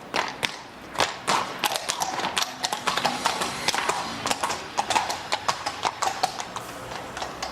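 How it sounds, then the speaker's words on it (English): Horses' hooves clip-clop on London streets in a steady, close walking rhythm, with sharp repeated strikes and faint background street noise. "Horses are an increasingly rare sight on London's streets these days"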